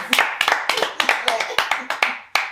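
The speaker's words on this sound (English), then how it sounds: "Guys, round of applause." A few people in a podcast studio clap by hand: about a dozen sharp, distinct claps in an uneven rhythm, close to the microphone.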